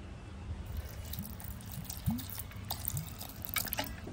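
Cold water is poured over jaggery in a pot, a soft trickle with scattered drips and small splashes, faint and close, with no talk.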